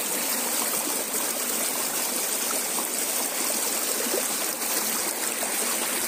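A waterfall-fed stream near Kalpol Thanda Kunta rushes with a steady, dense hiss of flowing water that stays even and unbroken from start to finish, with no voices.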